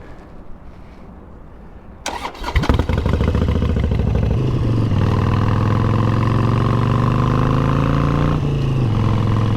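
A Harley-Davidson Sportster motorcycle starts after a quiet moment, with a clattery crank and then a loud, steady idle with a deep, lumpy rumble that settles in close by and holds to the end.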